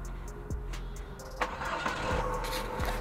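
A car with a GM 6T30/6T40 automatic transmission, such as an Astra J, Cruze or Captiva, has its engine cranked and started, a short cranking whir that settles into a low steady engine rumble, close by.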